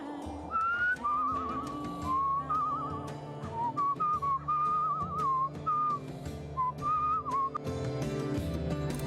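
A character whistles a wandering tune in the video game Where the Water Tastes Like Wine, the melodic whistle running over steady game music with plucked accompaniment for several seconds.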